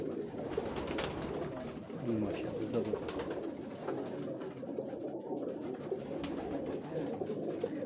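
Pigeons coo in soft, repeated throaty calls on a Lahore rooftop, close by and blended with ambient noise, while someone talks over them throughout.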